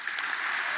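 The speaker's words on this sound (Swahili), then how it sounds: "Makofi mengi sana" Dense applause from the audience at a Political Parties Council meeting fills the moment: a steady, even wash of many hands clapping at once, moderately loud and unbroken, with no voices standing out.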